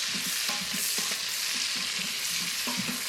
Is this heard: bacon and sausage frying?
yes